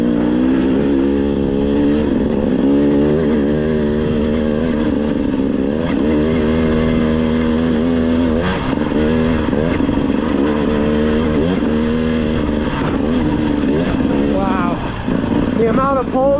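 A 2025 GasGas EC 300 GP two-stroke dirt bike engine runs loud and close, its pitch rising and falling through repeated revs and throttle blips, with a voice talking over it.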